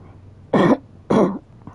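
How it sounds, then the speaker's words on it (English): Two sharp throat-clearing coughs land right on a microphone, close and loud, separated by a short pause, with a faint third catch trailing after. "Sorry, didn't mean to cough into the mic."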